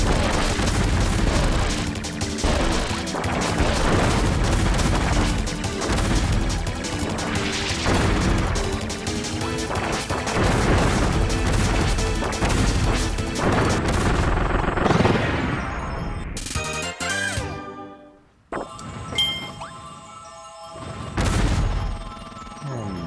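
Explosions from bombs in the Kirby Returns to Dreamland video game, a dense run of loud booms and crashes over game music that breaks off, then a few sparser blasts near the end.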